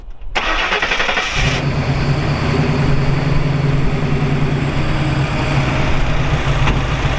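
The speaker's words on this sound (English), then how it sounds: "We're going to fire it up here for you, let you hear it run." A 1968 Ford Bronco 4x4 resto-mod engine cranks briefly, catches and settles into a loud, steady, rumbling cold idle close to the microphone, with no talking.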